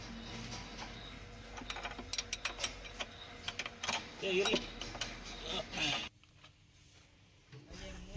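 Ratchet wrench clicking as it tightens a loose gearbox on a harvester, a burst of rapid metallic clicks and clanks in a noisy workshop over background machinery and voices, cutting off abruptly near the end.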